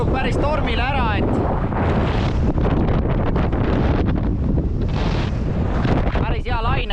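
Strong storm wind batters a boat on a lake as waves hit, producing loud, continuous buffeting roar with gusty bursts and splashes.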